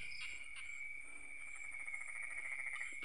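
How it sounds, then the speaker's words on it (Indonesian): Frogs croaking at night in a rice paddy that runs into the middle of a forest, a steady rapid pulsing chorus blended with a continuous high insect drone, distant and even throughout. "hanya suara kodok dan anak kodok"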